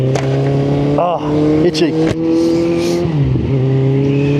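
A car engine hums steadily and then revs down as the vehicle slows for a corner, heard from inside the cabin while someone speaks briefly over it.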